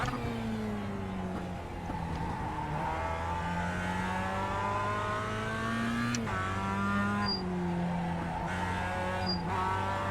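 Mazda MX-5 Cup race car engine in iRacing at Okayama International Circuit, a steady droning rev that rises and drops through gear changes, with faint tire squeal, continuous and without talk.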